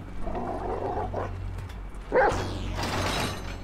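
Chop the dog barking in GTA 5, a short burst of rough barks near the middle over steady mechanical game noise, with a whimpering edge and no talking.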